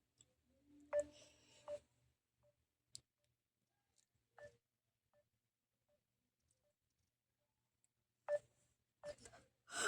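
Dialing tones on a phone as a call is attempted, in a few short bursts with quiet gaps between them, fairly close, and no talking.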